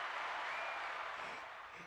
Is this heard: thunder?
no